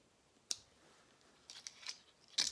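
Scissors snip through material while making a DIY Easter bunny topiary, giving a few short, crisp, close cuts separated by quiet pauses.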